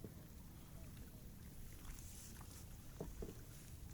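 Small paddled boat with no engine on a narrow village waterway in Aceh Timur, quiet water and wind noise with a few soft paddle splashes and knocks near the end, faint and without talk.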